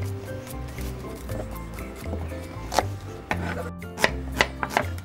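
Knife chopping garlic on a board, with irregular close taps and quicker bursts of cuts against a low background hum, and no voices.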